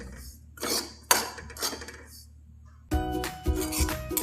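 Grated coconut stirred and roasted dry in a pan for coconut ladoo, with scattered scraping and clinking strokes of a spoon against the metal, quiet gaps between them, and a denser sizzling, rattling stretch near the end.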